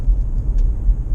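A Renault Espace with an automatic gearbox, running on E85 ethanol and fitted with a changed exhaust, gives a steady, deep engine rumble up close, unbroken for about a second, with no voices.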